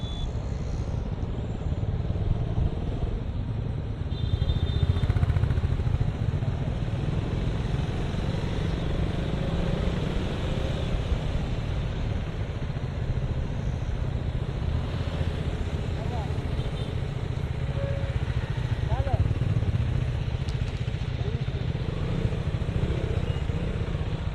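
Vehicles stopped in a traffic jam, their engine cooling fans giving a continuous low whirring drone, steady and unbroken with some wind rush over the microphone.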